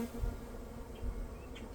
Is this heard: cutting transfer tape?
no